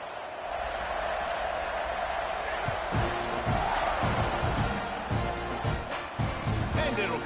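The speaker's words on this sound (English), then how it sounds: "this crowd now ready to get behind them" A stadium crowd in the video game NCAA 26 roars steadily throughout, swelling and thumping midway, while a commentator talks over it.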